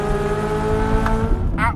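A Chevrolet Corvette Z06's V8 engine howls loudly and steadily at high revs, holding a strong tonal drone as the revs hold near the top of the range, with a brief sharp change near the end.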